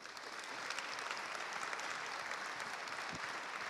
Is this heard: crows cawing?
no